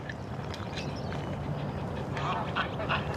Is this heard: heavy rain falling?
no